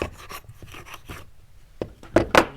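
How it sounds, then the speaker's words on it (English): Granny's tooth router plane rubbing and rasping across wooden furniture, a series of short scraping strokes that build to a few sharper, louder passes near the end, close up with no talk. "another tool we can use for doing this is the granny's tooth"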